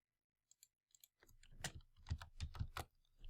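Computer keyboard typing while entering values into a SQL Server database table in Visual Studio 2013: a few isolated soft clicks, then a dense, close burst of rapid keystrokes with irregular rhythm and no talking.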